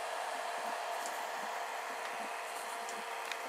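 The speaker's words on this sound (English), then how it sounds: "Most of the noise you can hear at the moment is from the PSU." A small cooling fan inside a 12 volt power supply unit in a box whirs with a steady, hissy drone, faint clicks and ticks scattered over it, with no one talking.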